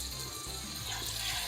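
A whole chicken frying in a pan for murg musalam, a continuous dense sizzle with a hissing, watery texture, steady and close, with no voices.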